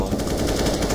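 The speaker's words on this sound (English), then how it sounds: "I think I shot one in sniper nest" Rapid automatic gunfire from a CS:GO match, a loud, dense burst of repeated shots filling the whole moment, with a voice faintly underneath.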